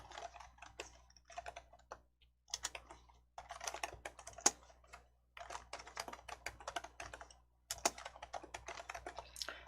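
Fingers type on a computer keyboard while entering slide text in PowerPoint, in quick clattering bursts of keystrokes broken by short pauses, close and fairly quiet, with no voices.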